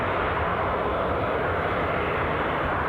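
A Jet2 airliner beginning its takeoff roll at Edinburgh Airport gives off a steady, loud roar of engine noise that holds constant throughout.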